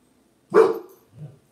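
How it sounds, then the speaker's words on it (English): A dog gives one loud, close bark followed by a shorter, softer yip or grumble, with no talking alongside it. "You're going to try to bark after the fact."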